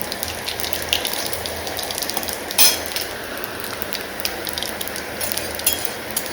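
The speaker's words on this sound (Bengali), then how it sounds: "একটু জিরে ফোড়নই দেবো শুধু, দিয়ে এটা ভাজতে থাকি" Cumin seeds frying in hot oil, a steady close crackling sizzle with a brief sharper spatter partway through, no voices.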